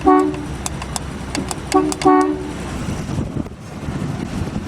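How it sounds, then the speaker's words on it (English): A 1946 Plymouth Special Deluxe horn honks several times, short blasts in quick succession with a nasal, buzzing tone, followed by the rumble of the idling engine. "Good old horn from 1946 Plymouth."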